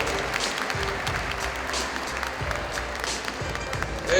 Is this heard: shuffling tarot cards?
no